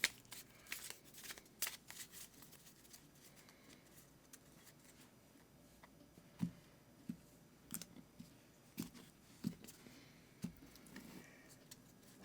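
Tarot cards being shuffled up close, a quiet run of crisp riffles and sharp snapping clicks repeating at an uneven pace, with no talking.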